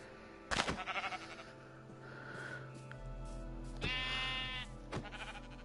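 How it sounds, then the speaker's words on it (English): A Minecraft sheep bleats in a video game, a couple of short wavering baas sounding clearly close up over a quiet hum. "Oh, there's a sheep. Are you a sheep?"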